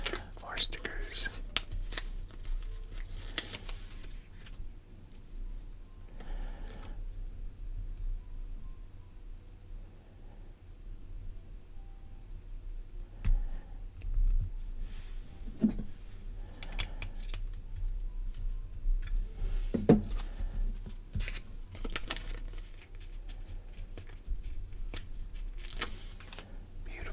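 Crinkly peeling and pressing of stickers onto Jurassic Park LEGO pieces, soft close-up rustles and taps in irregular bursts with whispered speech throughout.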